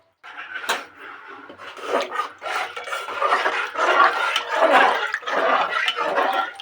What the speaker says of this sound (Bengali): সেই জন্য আমি এটাকে সারাক্ষণ নাড়তে থাকবো